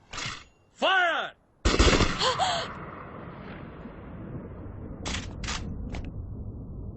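Gunfire rings out in a Hindi-dubbed animated movie, with a few sharp bursts separated by pauses, mixed with vocal gasps and a dramatic soundtrack that tails off into a fading rumble.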